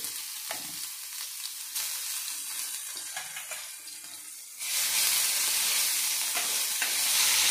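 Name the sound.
cumin and chili paste frying in oil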